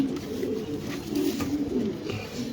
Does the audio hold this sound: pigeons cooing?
yes